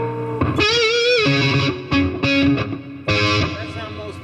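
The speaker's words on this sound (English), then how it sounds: "you can control the amount of distortion" A Randy Rhoads Les Paul Custom electric guitar with heavy distortion plays sustained, wavering notes and short phrases, loud and close, with brief pauses between bursts.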